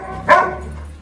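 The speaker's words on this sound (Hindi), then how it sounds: "फिर उसके ऊपर भौंक रहा है" A golden retriever gives a single short, loud bark close by, which fades quickly into a low background hum.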